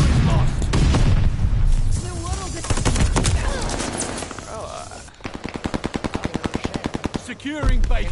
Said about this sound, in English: Just throwing all their grenades.